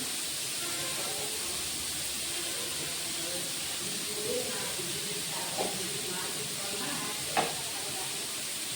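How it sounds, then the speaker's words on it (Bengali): Grated papaya frying in a pan for plastic chutney, giving a steady soft sizzle with a few faint clinks and stirring taps, with no talk over it. "এখন ভালো করে ভেজে নেব।"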